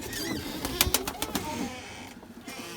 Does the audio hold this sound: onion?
no